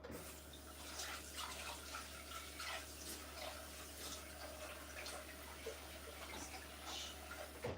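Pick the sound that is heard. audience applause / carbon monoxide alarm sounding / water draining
water draining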